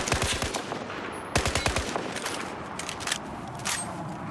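Rapid burst fire from a rifle in Battlefield 4, with short volleys of sharp cracking shots in quick succession, loud and close, with a few trailing single shots and echoes.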